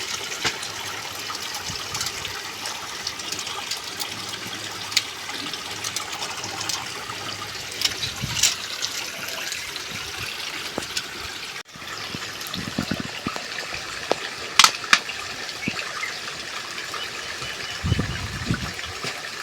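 Continuous hissing flow of running water, steady and fairly close throughout, with faint clicks and a brief dip partway through.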